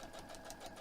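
A sewing machine stitches fabric along a marked line, its needle chattering in a fast, even mechanical rhythm at moderate volume, with no voices over it.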